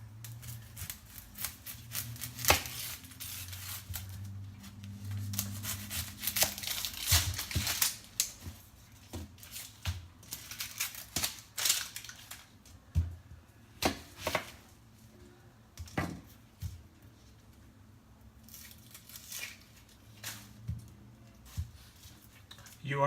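A knife cuts through a large onion on a board in a home kitchen, irregular sharp taps and crunchy clicks repeating close up, with a voice talking faintly at times underneath.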